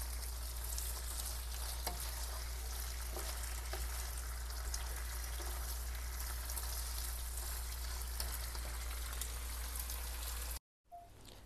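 Buttered shrimp frying in a pan, a dense close crackling sizzle with occasional sharper pops, steady and loud for about ten seconds before a sudden brief cutoff and a quieter resumption.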